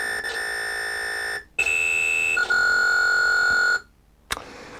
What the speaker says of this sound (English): We got beeps and boops instead.